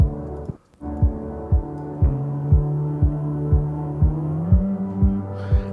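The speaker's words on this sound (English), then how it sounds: "let's make the distortion a little bit more intense" A distorted synth patch with intensified distortion pulses in a regular throbbing rhythm, a buzzy low droning tone that steps up in pitch midway and keeps pulsing steadily, alone and fairly loud.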